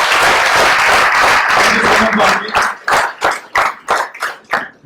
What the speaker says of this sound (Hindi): जोरदार तालियां जानवी के लिए